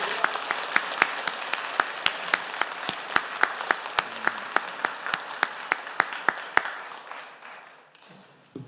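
Church congregation at an Easter Sunday worship service applauding together, a steady wash of many hands clapping with sharp individual claps poking through, fading away over the last seconds.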